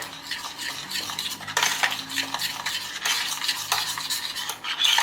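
A spoon stirs a cherry honey glaze in a pot, making repeated scraping, swishing strokes with faint clinks against the metal. The sound is close and fairly quiet, with no talking.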